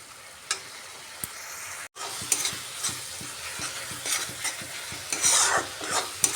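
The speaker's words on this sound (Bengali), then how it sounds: "ধনেপাতা দিয়ে একটু সময় কষিয়ে নিচ্ছি মশলাটাকে।" Rohu fish curry masala is sautéed with coriander paste in a pan. A spoon scrapes and stirs repeatedly and close by while the masala sizzles, with a sharp clink and a brief dropout early on.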